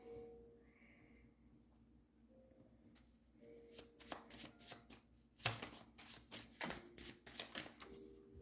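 Oracle cards being shuffled for an ancestor reading, a run of crisp riffling and slapping bursts that grow busier and louder midway, close up with no talking.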